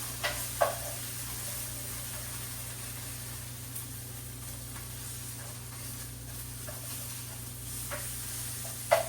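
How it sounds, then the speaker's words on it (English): A quiet, steady sizzle of chicken frying in a pot, with a few faint clicks and taps rising now and then above the hiss. "Chicken's sizzling."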